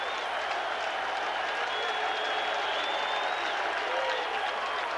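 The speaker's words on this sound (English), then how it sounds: "Crowd on their feet." A big crowd at a 1990 Dodgers versus Mets baseball game applauds and cheers steadily at a distance, a dense sustained roar of clapping with scattered whistles and yells.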